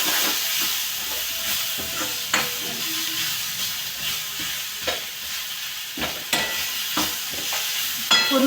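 Ingredients for bharit, the Maharashtrian mashed vegetable dish, are stirred in a hot pan with a steady sizzle and repeated scraping, clattering strokes close by, with no talking.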